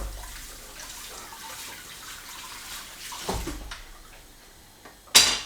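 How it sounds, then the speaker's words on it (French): Running tap water splashes steadily over a kitchen cutting board being rinsed between ingredients, with a brief knock near the end. "Entre chaque aliment, c'est quand même pas mal de laver sa planche."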